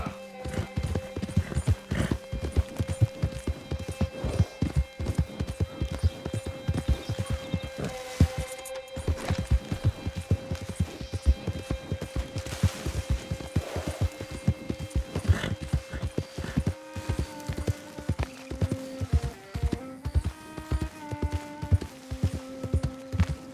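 A horse's hooves pound in a continuous rhythmic clip-clop, walking then breaking into a run as dusk falls in Red Dead Redemption 2, close and steady, with occasional snorts and a droning musical tone underneath.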